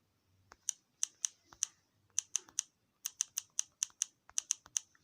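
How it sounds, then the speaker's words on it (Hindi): Keys clack on a colorful backlit computer keyboard, close and crisp, about seventeen sharp strokes in quick bursts separated by short pauses, alone in a quiet room. "देखिए जैसे कि मैं यहाँ पे टाइप करता हूँ।"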